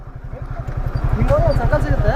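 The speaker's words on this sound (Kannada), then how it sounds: "ಬೈಕ್ ಹೋಗೋದಾಗಾರೆ" A motorcycle engine rumbles close by in a rhythmic low putter on a busy street outside a temple, with cars parked around, while people talk over it.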